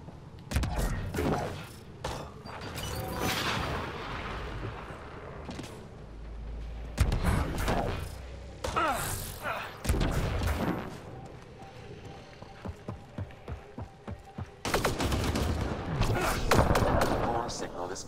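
Gunfire in Mass Effect: Andromeda, with scattered shots and bursts over eighteen seconds mixed with thuds and mechanical sounds, a short run of evenly spaced shots partway through, and voices speaking at points.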